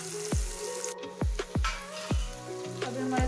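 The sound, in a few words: onion and green chili sizzling in tempering for upma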